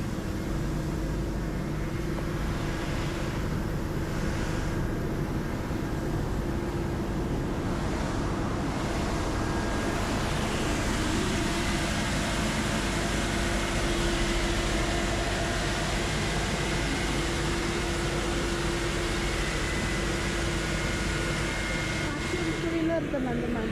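A street-cleaning vacuum machine works along the left side of a residential road, giving a steady, broad droning roar with a sustained whine throughout, with people talking faintly underneath.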